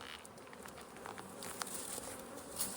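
Honey bees buzzing around mixed beehives during a check on queen acceptance, a steady close hum of many bees with light tapping and rustling, no talking.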